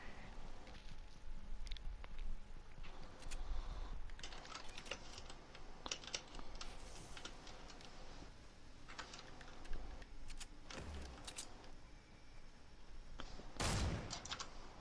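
Rapid bursts of gunfire from a Fortnite weapon being test-fired, sharp repeated shots scattered over steady clicking of keyboard and mouse, with one louder burst near the end.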